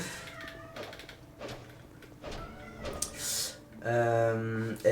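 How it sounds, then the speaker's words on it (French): A cat meows several times indoors during Dark Souls II gameplay, the short mid-pitched calls rising over faint game sounds and background noise, ending in a louder, longer yowl. "Tu peux faire taire ton chat"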